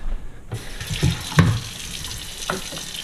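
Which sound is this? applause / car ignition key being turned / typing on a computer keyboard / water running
water running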